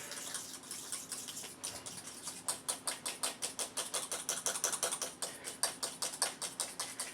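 Homemade mayonnaise with egg being whisked by hand in a bowl, a steady run of quick rhythmic ticking strokes that speeds up and grows louder, close and alone.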